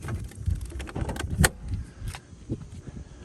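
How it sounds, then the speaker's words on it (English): A Corvette C6 LS3 hood being popped: a few sharp latch clicks and clunks with light jangling, close and fairly quiet, one distinct louder click standing out midway. "Let's go ahead now and pop the hood."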